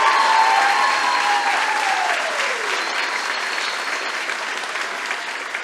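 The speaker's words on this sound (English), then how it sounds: "I think they need a round of applause." Sustained audience applause at the Miss Hanover Area Pageant 2022, a dense steady wash of clapping from a large crowd that holds loud throughout and eases off slightly toward the end, with no talking over it.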